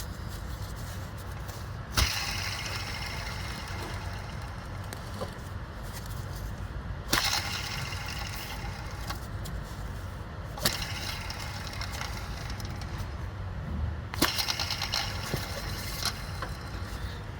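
A car engine runs under the hood with a worn two-pulley belt tensioner, giving a steady, moderately faint mechanical drone. Three sharp clicks or knocks break in at intervals.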